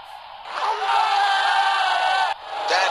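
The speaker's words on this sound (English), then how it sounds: "Crowd going mad here." Video game crowd in Real Cricket 2020 roaring and cheering loudly after a boundary, a sustained wash of voices that dips briefly near the end before swelling again.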